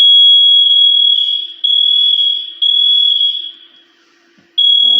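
An electronic alarm sounds loud and close as a steady high-pitched beep, sustained in long blasts with brief drops between them and a short fade near the end before it resumes.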